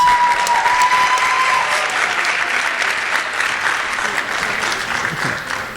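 Loud applause from an audience for a performer at a high school Hispanic Heritage Month celebration, continuous dense clapping that stays strong throughout and eases only slightly toward the end.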